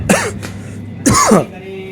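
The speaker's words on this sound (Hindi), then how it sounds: "मुझे खांसी जो है ना" Two rough coughs, the second stronger, separated by a short pause, close and fairly loud.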